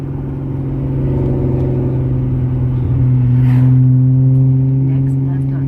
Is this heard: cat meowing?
no